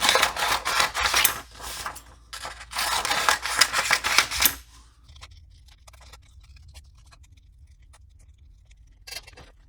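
A band of clear basswood being cut into a lure blank, producing rapid, dense rasping cutting strokes for several seconds that stop abruptly, leaving faint scattered ticks and low room noise.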